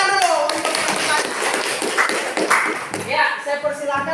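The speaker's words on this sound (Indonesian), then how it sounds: "Tepuk tangan dulu untuk pertanyaan." A classroom audience applauds a student's question with dense, continuous clapping, and voices are audible through it.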